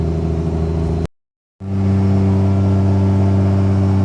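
Cummins diesel truck engine droning steadily and loudly while driving, with a brief total dropout of sound before the deep engine note returns.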